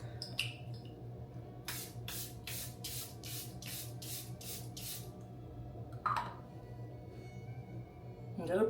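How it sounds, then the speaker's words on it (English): Charlotte Tilbury setting spray misted onto a face in about eight quick, evenly spaced spritzes, quiet and close against a soft hum, with a few faint handling sounds before and after. "Charlotte Tilbury setting spray to set everything into place."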